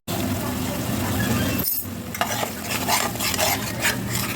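Cashew paste is stirred and fried into an oily masala for doi katla, a spoon scraping the pan over a steady sizzle, with a brief hush before the scraping and clinking resume close up.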